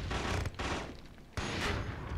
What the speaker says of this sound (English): Okay, shotgun again.